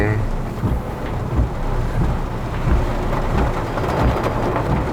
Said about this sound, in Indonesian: Ini Kelapa Gading lagi hujan deras banget nih.